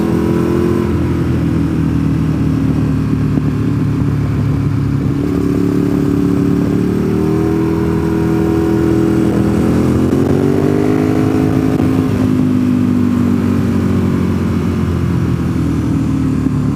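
A 1098 motorcycle engine runs continuously up close, its loud throbbing idle rising and falling through several gentle revs, steady and alone with no talk.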